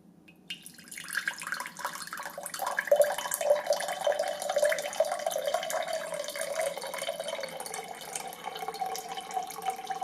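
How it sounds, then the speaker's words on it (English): Water pours steadily into the reservoir of a Brita Ultramax filter dispenser, a close, continuous rushing trickle that swells after a moment and holds on with no voices. "The water is going through the reservoir pretty quickly."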